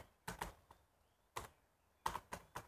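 Code being typed on a computer keyboard: scattered clusters of quiet, close key clicks with short pauses between bursts, alone with no voices.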